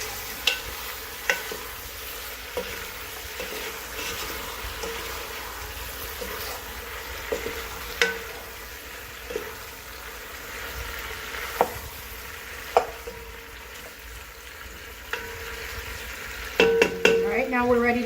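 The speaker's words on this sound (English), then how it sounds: "I usually like to fry my vegetables" Vegetables frying in hot oil for maqluba, a steady broadband sizzle with scattered sharp clicks and clatter of a utensil stirring against the pan throughout.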